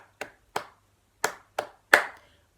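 Five sharp hand claps in an uneven rhythm during a children's recorder lesson, close and crisp, with quiet pauses between them and no talking.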